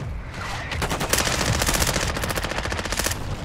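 Rapid bursts of automatic gunfire in Call of Duty: Modern Warfare II crackle almost continuously from several directions, loud and dense throughout with no pauses.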